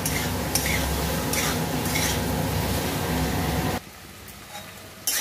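Tomatoes and boiled potatoes sauté in a pan for a tomato aloo posto dish, giving a loud, dense sizzle with spoon scrapes that drops abruptly to a quieter hiss near the end.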